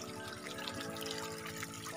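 Clean water flows steadily in a rural countryside setting, a faint, even trickling wash with no voices.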